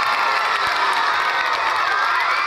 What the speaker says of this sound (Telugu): గట్టిగా చప్పట్లు కొట్టాలి.